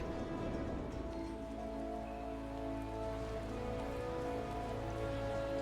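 Steady rain patters through a forest in Final Fantasy XIV, a constant even wash of drops blended with sustained tonal game music.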